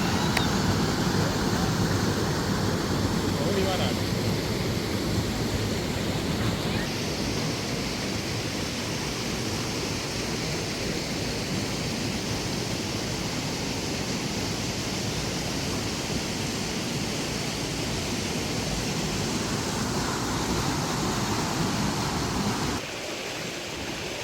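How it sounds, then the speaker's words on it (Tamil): Water rushes into a canal lock on the Wey and Godalming Navigation near the Thames, a loud, constant broadband roar that holds steady throughout and drops slightly near the end. "உங்களுக்கு தண்ணி இந்த சத்தம் கேட்குறது, இந்த சத்தம் கேட்குறதுக்கு நல்லா தான் இருக்குது"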